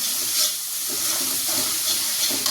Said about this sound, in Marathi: आता ही मिरची हलवून घ्यायची